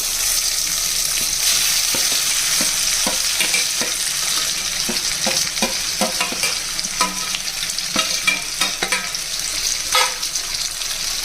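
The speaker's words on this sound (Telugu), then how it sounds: "ఇప్పుడు మనం పచ్చడి తీసుకొచ్చి పోపులో వేసేయాలి" Chutney is tipped into a sizzling oil tempering seasoned with turmeric and stirred, a constant hiss of frying broken by repeated spoon taps and scrapes against the pan.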